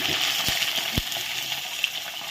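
Panch phoron and two dried red chillies tempering in hot oil for spinach stems: a steady close sizzle and crackle with a few sharp pops.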